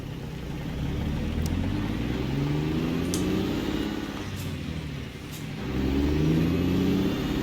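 Mack F700 truck engine in American Truck Simulator, hauling a heavy load, holds a steady low rumbling drone that swells in revs near the end, loud and continuous with no talk.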